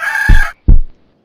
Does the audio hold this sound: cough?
no